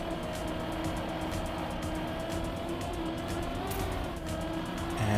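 A race car engine roars steadily at high revs in a racing video game, loud and continuous with a dense mechanical whine and faint tire noise throughout.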